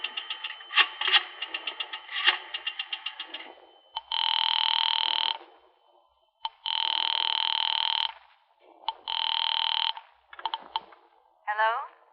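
An old-fashioned house telephone rings in three long, loud bursts separated by pauses, following clicking and dialing-like taps at the start, in a 1945 radio drama setting.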